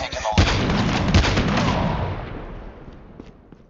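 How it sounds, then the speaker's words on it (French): A grenade blows up in a first-person shooter video game with a loud, booming blast that rolls out into a long, fading rumble. A quieter crack comes just before it. "Voilà, c'est une grenade."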